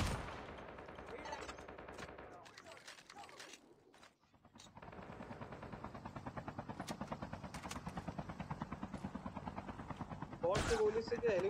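In Call of Duty Mobile, rapid gunfire hammers at a helicopter while its rotor beats a steady, pulsing chop underneath. The bursts run almost continuously over the rotor noise, and a voice speaks near the end.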